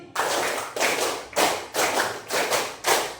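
A group of people in a classroom lesson claps in unison, six sharp, evenly spaced claps of hands, each a crisp burst with a short decay, fairly close and without talking.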